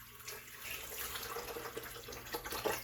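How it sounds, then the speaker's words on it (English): Water is poured into a blender holding fresh coconut pieces, a soft, steady trickle and splash lasting a few seconds at close range, fairly quiet. "Going to add some water."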